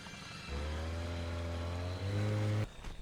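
A car engine in the horror video game Friday the 13th: The Game catches and settles into a steady, loud droning idle with a rich harmonic hum for about two seconds, then cuts off abruptly.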